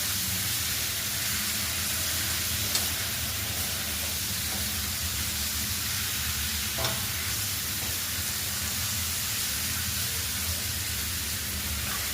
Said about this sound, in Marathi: एक मिनिटभर ह्या भाज्या चांगल्या परतल्या